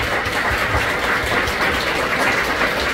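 A congregation at a Korean church's Sunday service in Gurgaon claps to welcome visiting members, a dense, steady roar of applause filling the room for several seconds without a break.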